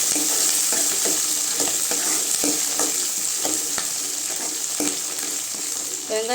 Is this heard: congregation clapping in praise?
no